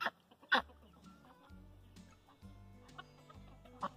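Chickens cluck and squawk on a small backyard farm where Pekin ducks are also kept, with sharp close calls at intervals over a low steady hum.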